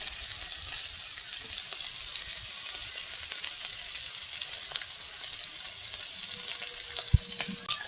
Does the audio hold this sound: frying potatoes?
yes